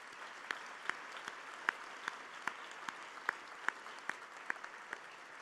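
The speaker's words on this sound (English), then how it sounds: "Let's give them a round of applause as well." Sparse, scattered clapping at an engineering faculty convocation ceremony, individual claps ringing out at a slow uneven rhythm over a quiet hall.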